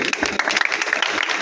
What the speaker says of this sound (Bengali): আমরা সবাই করতালি দিই।